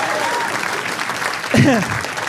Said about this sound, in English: Clap it up for the wonderful Joe